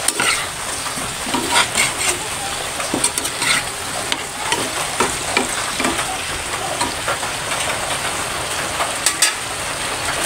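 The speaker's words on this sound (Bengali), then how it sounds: "ফ্রাই প্যানে মাছ ভাজি করছি তো তার কারণে ওই ফ্রাই প্যানে এখন রান্নাটা বসিয়ে দিয়েছি।" Curry simmering in a frying pan that was just used to fry fish gives a steady, close sizzle, broken by frequent spoon scrapes and clinks against the pan, with no voices.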